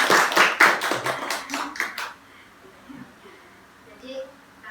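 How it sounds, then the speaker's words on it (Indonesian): A small group of children claps together in a classroom during a group counseling session, a brief burst of close hand claps lasting about two seconds before fading into quiet room tone. "tepuk tangan untuk kita semua"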